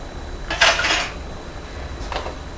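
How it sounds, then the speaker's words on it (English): Cream cheese frosting with powdered sugar and vanilla is mixed in a bowl: two short bursts of utensil clatter and scraping against the bowl, close and fairly loud, with quiet gaps around them. "we're going to mix that up until it's creamy and smooth"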